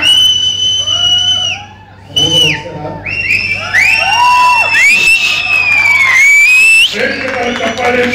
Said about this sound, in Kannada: ಪ್ರೇಕ್ಷಕರ ಚಪ್ಪಾಳೆ